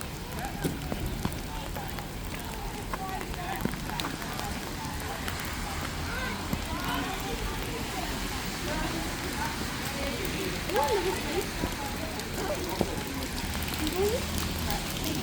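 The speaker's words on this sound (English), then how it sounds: "we still got some rain coming down" Rain keeps falling steadily outdoors during a storm, a continuous broadband patter that fills the whole stretch at moderate level, with people talking and moving about beneath it.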